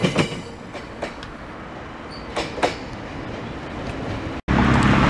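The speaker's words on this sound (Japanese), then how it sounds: "先ほど乗ってきたのがこの5000系で、もともとは1000系の特別車だったんですが、これを一般車に作り変えたものです。" A Meitetsu 5000 series train, a rebuilt 1000 series car, rumbles along the rails with rhythmic wheel clatter and faint squeals, loud and steady before an abrupt cut to a harsher noise.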